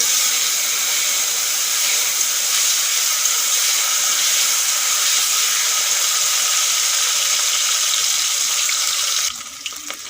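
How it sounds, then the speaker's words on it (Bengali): Cut potatoes frying in oil with cumin in a pan, a loud, steady broadband sizzle that holds evenly and then cuts off sharply near the end. "ফোড়ন হয়ে গেছে আলুগুলো এতেই ভেজে নেব"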